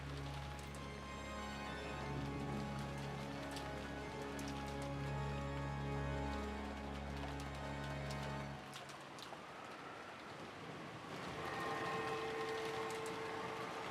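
Steady rain in the Umineko visual novel game falls as a constant soft hiss under sustained music tones, which fade out partway through and leave the rain audible along with faint higher tones.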